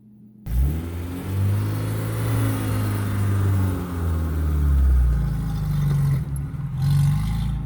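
A 1987 Suzuki Samurai engine starts up and revs while driving, a loud close mid-pitched drone rising and falling through several pulls.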